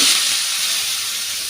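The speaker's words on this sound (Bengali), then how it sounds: "এখন এটা আমি ভালো করে ভেজে নেব।" Prawns coated in salt, turmeric and chilli powder frying in very hot mustard oil, a steady close sizzle with broad bright hiss that holds evenly throughout, no voices.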